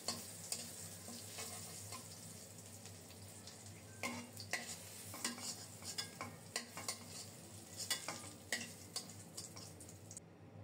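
Eggplant fries in mustard oil with a faint, even crackle, while a spatula stirs and taps against the pan in irregular strokes.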